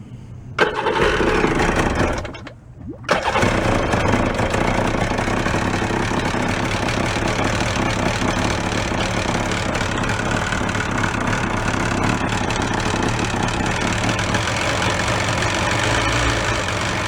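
A jet ski bought at a yard sale cranks briefly, cuts out, then fires up and settles into a loud, steady idle that runs on without a break.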